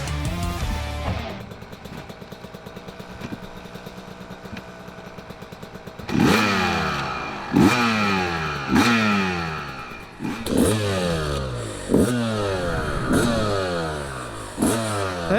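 Two-stroke Honda CR250 and Suzuki RM250 motocross bikes ride close by, a sharp idling rattle giving way to repeated loud revving bursts that rise and fall as the riders accelerate and shift.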